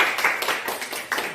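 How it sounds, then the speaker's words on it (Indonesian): A classroom group claps for a student after a peer-teaching presentation, a brief burst of several close, uneven hand claps with no talk over it. "tepuk tangan buat kamu."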